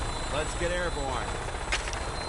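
Aircraft engines in the Fallout video game hum and whine steadily during takeoff, with a continuous drone under a voice speaking.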